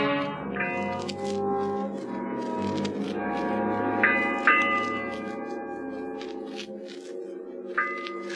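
A ship's bell striking eight bells aboard a vessel in a 1945 radio drama, ringing clear, separated strikes over a steady low droning tone that sustains beneath them.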